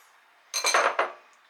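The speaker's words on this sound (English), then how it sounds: "we're going to grab our strawberries, plop them right in there" Fresh strawberries plopped into a blender jar on top of a pineapple layer, giving a short cluster of hard clattering knocks over about half a second, close and fairly loud, with no talking.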